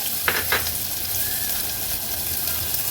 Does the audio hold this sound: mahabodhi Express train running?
no